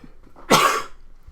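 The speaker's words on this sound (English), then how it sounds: "I have to cough really badly" A single sharp cough, close and fairly loud, breaking a quiet moment.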